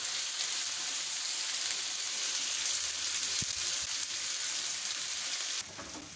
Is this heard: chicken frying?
yes